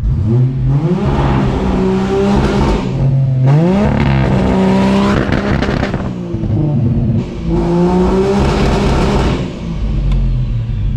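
A Nissan Patrol fitted with a Barra engine and a new turbo revs hard three times in loud, sustained bursts, each climb and fall of the engine note carrying the crackle and pop of turbo anti-lag.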